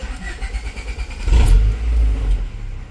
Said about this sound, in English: let's go ahead and get the car started up here